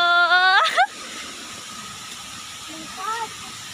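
A steady broadband roar from the waterfall at Astig Falls fills the background, continuous and fairly distant, while a person's excited exclamations ring out over it at the start and again near the end.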